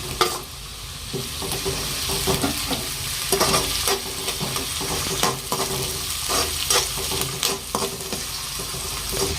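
Onions and tomato sizzle in a hot pan for a cabbage egg fry, a steady close frying hiss broken by repeated scraping strokes of a spoon stirring, with no talking.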